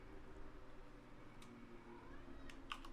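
A house cat meows in a room during a horror game session, a few brief, faint calls near the end over a steady background hum, with no talking.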